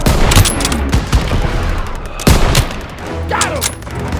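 Heavy anti-aircraft gun fire in a World War II combat scene in a courtyard, loud rapid bursts of shots with sharp booms amid a dense battle din, with faint shouting under the firing.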